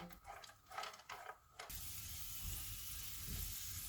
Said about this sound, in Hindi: घी गर्म हो गया है, इसमें 3 टेबल स्पून किशमिश डालेंगे। चूल्हे को मैंने कम रखा हुआ है, इसको 1 से 2 मिनट तक फ्राई करेंगे।